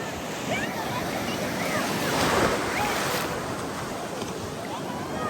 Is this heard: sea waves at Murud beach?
yes